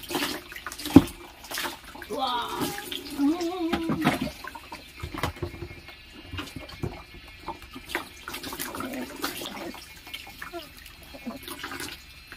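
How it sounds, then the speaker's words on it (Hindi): Water is poured over a dog during an outdoor bath in Ziro, Arunachal Pradesh, splashing and trickling in uneven bursts close by, while people talk and encourage the dog throughout. "आगे साइड में पानी डालो"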